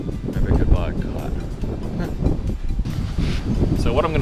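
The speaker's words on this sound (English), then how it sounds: "I love the wind, it's great." Gusty wind blowing outdoors over a lawn, low rumbling buffets against the microphone rising and falling throughout, with a person talking over it.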